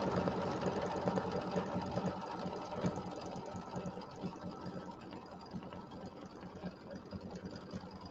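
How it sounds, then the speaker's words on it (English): An embroidery machine stitches a decorative pattern on a Christmas quilt block, a continuous close mechanical whirr with fast rhythmic needle ticking and no pauses or talking. "Then we're going to do the decorative stitch."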